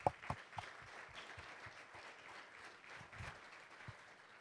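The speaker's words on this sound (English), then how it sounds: "So please give them a round of applause." Audience applause at a chamber of commerce luncheon at a Hilton Garden Inn, faint and somewhat distant clapping from a crowd, with a few sharper claps near the start before it settles into a soft, steady patter.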